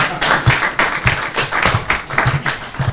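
An audience claps through a public lecture on gender-based violence in higher institutions, a steady patter of many hands with rhythmic surges, fairly close and loud, with no speech over it.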